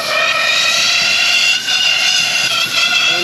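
Aerosol brake cleaner sprays hard from a can onto a Jeep Cherokee 4.0 part, giving a loud, steady, close hiss with two short breaks between blasts and no talking.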